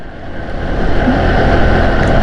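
A motorcycle engine, hot-wired with no key in the ignition, runs with a steady, loud, close rumble that builds slightly over the first second and then holds even.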